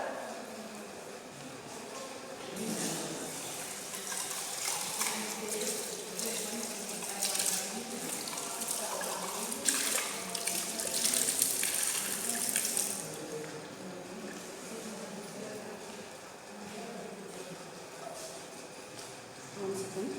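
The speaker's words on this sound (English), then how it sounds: "first we have to wash this calorimeter with water" Running water splashes steadily into a calorimeter, a continuous rushing wash with some clatter, swelling in the middle before settling back.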